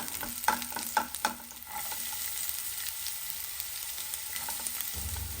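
Chopped onion frying in ghee with garlic for a red-sauce macaroni pasta, a steady close sizzle with a few stirring scrapes and knocks early on, then continuous frying hiss with no talk.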